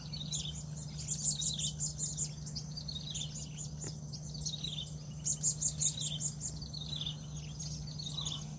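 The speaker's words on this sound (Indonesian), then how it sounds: "banyak ini burung siit kami bilang itu dia pergi makan itu bunga-bunga" Small birds called siit feeding on flowers outdoors, giving bursts of high, rapid chirping trills that repeat several times over a steady low background hum.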